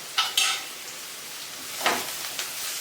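Ginger-garlic paste sautéed in a pan for pav bhaji: a couple of sharp spatula clinks, then a soft frying hiss with another scrape and sizzle burst, close and quiet, no voices.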